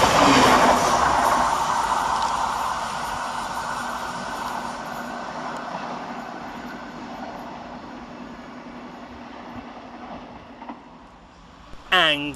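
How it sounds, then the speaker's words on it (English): Thameslink Class 700 unit 700-046 passing Anerley station, a loud rushing rumble that peaks early and fades steadily as it draws away, ending with a sharp clatter. "Taking us by surprise is 700-046, working 9 Romeo 20 for Thameslink from 3 Bridges"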